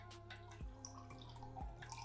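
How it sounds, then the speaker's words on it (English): Water is poured into a food processor while making a vegan nacho cheese sauce, giving a faint, continuous trickle with a few soft drips and splashes up close. "So here is 1 cup of water."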